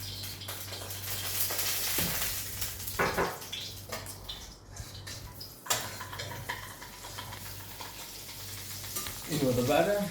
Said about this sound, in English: So always the best combination for sauteing onions.